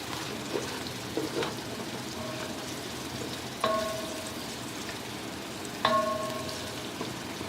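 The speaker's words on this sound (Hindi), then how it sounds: "अब हम इसमें प्याज डालेंगे, 1-2 मिनट इसको फ्राई करेंगे।" Onions frying in a hot pan for egg fried rice, a steady soft sizzle throughout with occasional light clinks of a utensil against the pan.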